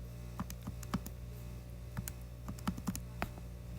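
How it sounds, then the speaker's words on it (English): Keys are tapped on a handheld calculator. Soft, close clicks come in an irregular typing rhythm over a low background hum. "I'm sure you can hear me typing"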